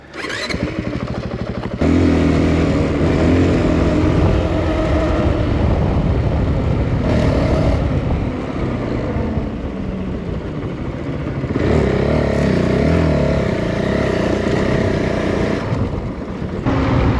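An enduro motorcycle riding along a road, its engine droning loudly and steadily close by, with the pitch rising and falling as it shifts and accelerates, alongside wind rumble and occasional rattles.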